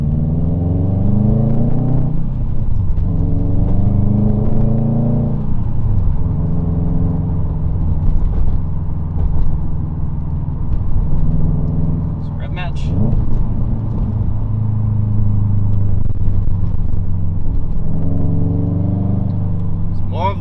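A car with a manual gearbox is driven with rev-matched shifts: a loud, close engine drone drops and swells at each gear change, with throttle blips between, while someone talks over it.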